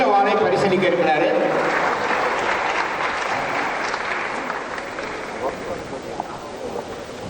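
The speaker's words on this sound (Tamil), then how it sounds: "அவர் ஒரு பலத்தை கைத்தட்டு தரணும்" Audience applause at a ceremony, a thick burst of clapping that starts strong and slowly thins while a voice talks over it in the latter part.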